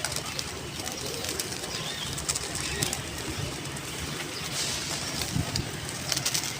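A flock of pigeons feeding, heard as dense continuous cooing and bird calls with occasional wing flutters over a busy outdoor wash of background noise, close and steady throughout.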